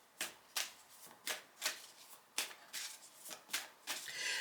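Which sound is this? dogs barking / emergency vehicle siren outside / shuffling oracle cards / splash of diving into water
shuffling oracle cards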